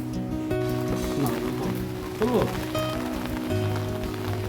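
Steady rain falls on a surface on a rainy morning, a constant patter with faint background voices and a few brief household noises over it.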